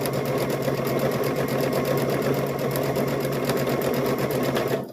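A sewing machine stitching a stuffed bear whirs continuously and evenly for the whole stretch, close and steady with no talking.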